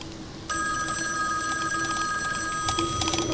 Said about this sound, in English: the phone makes you look, and then he shows up